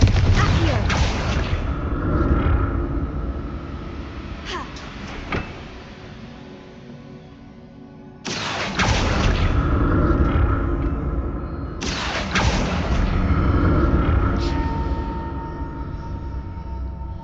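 Confringo blasting spells go off in Hogwarts Legacy as three loud booming explosions, each with a sharp crack and a long rumbling tail that fades before the next.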